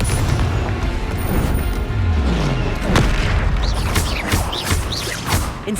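Confringo blasting spells in Hogwarts Legacy go off as booming explosions, rumbling blasts and crackling bursts layered over continuous loud combat noise.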